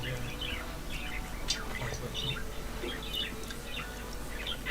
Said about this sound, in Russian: Зато попугай у меня очень разговорчивый